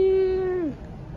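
A cat gives one short, clear meow that holds steady and then drops away at the end, close by, followed by quiet room tone.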